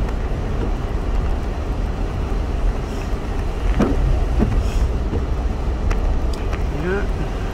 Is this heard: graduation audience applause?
no